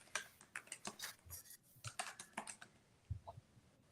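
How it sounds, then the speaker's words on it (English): Fingers typing on a computer keyboard, a quick irregular run of light clicks and taps with short pauses between bursts, close and fairly quiet, with no talking. "I'm typing them up"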